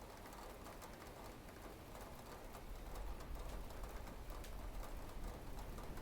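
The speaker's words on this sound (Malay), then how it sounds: "Dia punya bunyi hujan tu betul-betul dekat tepi telinga Teddy." Steady rain falls in the Roblox horror game Silent Mansion, a dense hiss of drops pattering close by that grows slightly louder midway, with no voices.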